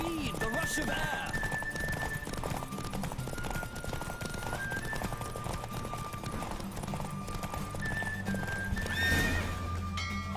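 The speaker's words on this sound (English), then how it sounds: "Don't spare the horse!" Horse neighs and galloping hoofbeats in The Witcher 3 video game, a steady clip-clop running throughout with whinnies, layered under game music and a voice talking.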